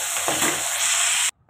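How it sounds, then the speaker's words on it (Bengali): Fish shallow-frying in hot oil for a Bengali fish jhal, a loud steady sizzle with some stirring, cutting off abruptly near the end. "দেখো এখানে আমার মাছটা ভাজা হয়ে গেছে"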